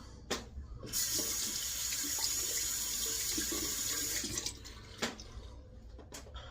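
Water runs steadily from a faucet into a sink while someone rinses off, with a brief splash at the start and a few clunks near the end, close and moderately loud with no talking.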